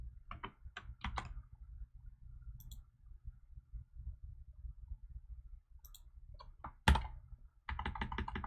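Code being typed on a computer keyboard, with bursts of close, crisp key clicks separated by quieter pauses, a sharp louder tap near the end, then a dense run of rapid keystrokes.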